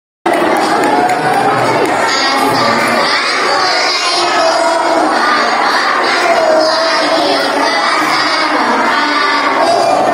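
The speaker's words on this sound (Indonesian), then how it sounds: "Beri aplaus sekali lagi sayang" A crowd at an Isra' Mi'raj commemoration gathering, many of them children, cheers and shouts in a loud, continuous roar that fills the space for about ten seconds, with excited voices overlapping throughout.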